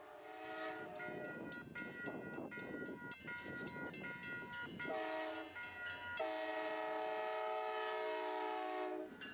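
A CSX freight train rumbles past on the Old Road Subdivision with a loud, sustained horn sounding in long blasts over the rolling clatter of cars.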